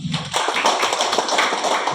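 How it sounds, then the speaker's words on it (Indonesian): A church congregation clapping during a Sunday worship service, a quick burst of many close hand claps rising after a brief voice, continuing as a busy, even patter. "Tepuk tangan dulu bagi Tuhan."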